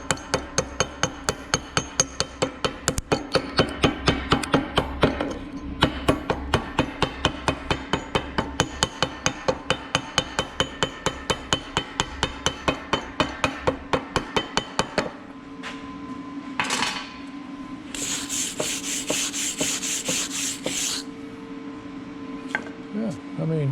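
Rapid, steady hammer blows ring out on metal during fabrication of a large steel drill adaptor, a long run of sharp strikes that stops, followed by scraping and clinking in the shop, with some talk.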